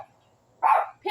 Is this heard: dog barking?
yes